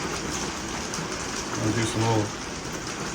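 Light rain falls during a thunderstorm over Manhasset Bay, a steady, soft patter and hiss throughout, with someone talking over it.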